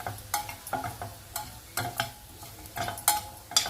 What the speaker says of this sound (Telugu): ఇప్పుడు వేసిన తర్వాత అంతా ఒకసారి బాగా మిక్స్ చేయాలి మనము.